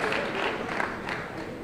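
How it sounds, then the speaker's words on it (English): Audience applauding volunteers, a dense steady patter of many hands clapping, moderately loud and sustained for the whole moment. "How about a huge round of applause for our volunteers?"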